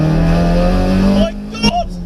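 A modified Toyota Starlet GT accelerating hard, its engine note rising strongly up close before lifting off, with a brief burst of sound after a voice speaks over it.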